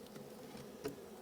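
Honey bees crowd around a hive split, giving a faint, close, steady buzzing drone with small swells as individual bees pass nearby.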